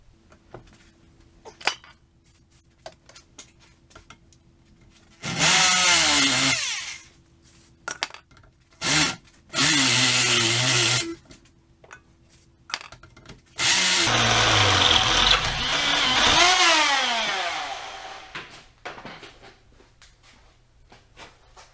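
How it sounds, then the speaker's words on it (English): A power drill bores out a hole in a Toyota rear shackle part for a 1.5 inch body lift, several loud whining bursts that rise and fall in pitch, separated by pauses, clinks and small metal rattles. "now I have to drill the hole big enough to allow this piece to slide through."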